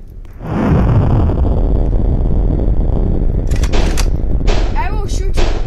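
Cannon or gun blasts in the Roblox game Pirate Wars, a sustained loud roar of firing followed by several sharp bursts and whistling shots near the end, with no voice over it.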